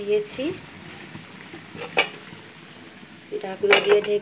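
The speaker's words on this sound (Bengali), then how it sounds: "তেলটাকে গরম করে তারপর ঢেঁড়সগুলো ছেড়ে দিয়েছি। এরপর ঢেঁড়সগুলোকে একটু নেড়ে চেড়ে" Okra fries in hot oil, a soft sizzle broken by a few clanks and scrapes of the spatula against the pan as it is stirred, louder bursts near the end.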